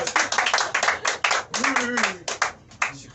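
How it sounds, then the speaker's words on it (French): A small group claps for reaching 406 Facebook followers, a few seconds of steady close hand claps while a voice talks over them. "On applaudit 406 followers."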